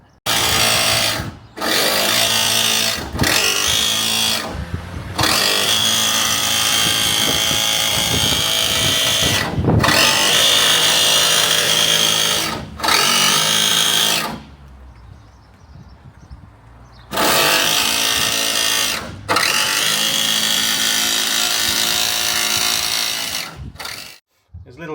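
A jigsaw cuts a window opening in a campervan body panel, running loud and continuous in several long bursts broken by short pauses, with one longer gap partway through.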